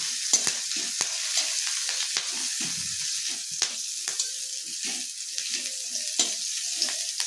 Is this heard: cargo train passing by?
no